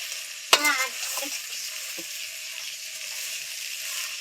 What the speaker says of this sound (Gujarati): હલાવી રાખો. મિક્સ નહીં થાય.